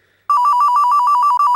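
A mobile phone rings indoors with a loud electronic ringtone: a fast, rhythmic warbling tone that starts abruptly after a brief near-silence and keeps repeating evenly, with one tiny gap near the end.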